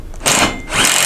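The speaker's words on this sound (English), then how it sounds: "we're going to start with our top bolt using our 10 mil socket and our impact. We're going to snug that down." An impact wrench with a 10 mm socket snugs down the top bolt of an ArmorTech crew door on a CF MOTO U-Force 1000XL, giving two short close bursts of whirring hammering with a brief dip between them.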